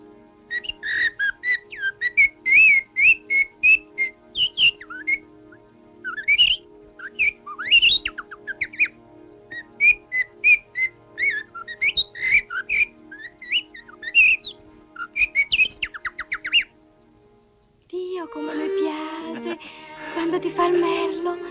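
A man whistles an imitation of a blackbird's song, a long run of close, loud, warbling phrases broken by short pauses, followed at the end by a voice speaking.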